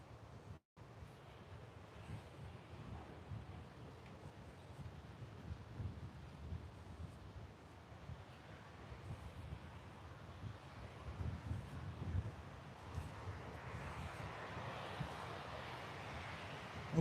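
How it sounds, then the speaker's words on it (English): Steady coastal wind rushes and buffets the microphone as a boat heads out near Fingal Head, a continuous broadband roar that swells slightly toward the end, with surf-like wash underneath. "you can see the wind just around the corner here as we head out"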